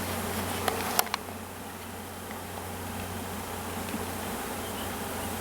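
Honey bees humming inside an opened, packed hive during a colony split, a dense, steady drone close by, with a few faint clicks and knocks near the start.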